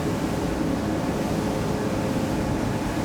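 Three engines of an Axopar 45 motorboat drone as speed creeps upward, a dense continuous roar mixed with rushing water and wind, with no talk.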